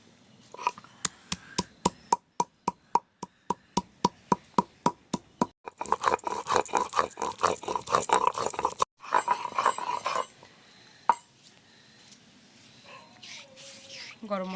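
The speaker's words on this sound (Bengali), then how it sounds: "আমি গরম মশলাটা বেটে নেব" Garam masala spices being ground by hand on a grinding stone in a home kitchen, heard as a steady run of sharp rhythmic strikes and scrapes, near and loud, with a voice talking at times.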